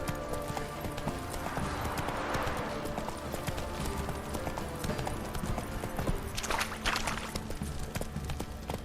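The horse Roach trotting in a video game, with a steady, rhythmic clip-clop of hooves that runs throughout under a dense layer of game ambience.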